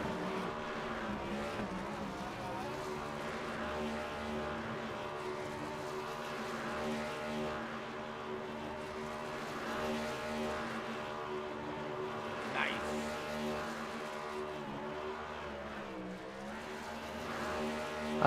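Race car in the iRacing sim doing a smoky burnout, a sustained loud high-revving engine roar with steady harmonic drone and slight pitch swells, continuous throughout.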